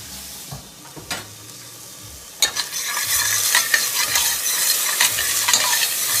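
Tamarind curry paste cooking and being stirred in a pot, a few spoon knocks and scrapes at first, then a rising, steady sizzle with repeated clacks of the utensil against the pot.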